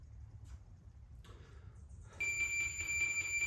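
A steady high-pitched electronic tone switches on and holds over a low background rumble, sounding like a timer going off.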